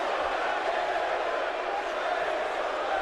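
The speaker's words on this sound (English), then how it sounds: "The crowd still chanting for Bray Wyatt." Arena crowd noise from a WWE 2K wrestling game, a steady dense roar of many voices chanting for a wrestler, loud and continuous without a break.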